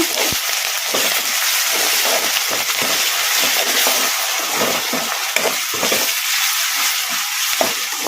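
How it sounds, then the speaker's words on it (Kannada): Ginger-garlic paste fries in a pan for a quick chicken fry while a spoon keeps stirring it, producing loud, close, continuous sizzling with repeated scraping strokes and crackles. "ಈಗ ಅಲ್ಲ ಬೆಳ್ಳುಳ್ಳಿ ಪೇಸ್ಟ್ ಹಸಿ ವಾಸನೆ ಹೋಗೋವರೆಗೂ ಒಂದೆರಡು ನಿಮಿಷ ಈ ಥರ ಕಲಿಸ್ಕೊಂತ ಫ್ರೈ ಮಾಡ್ಕೊಂಬಿಡೋಣ."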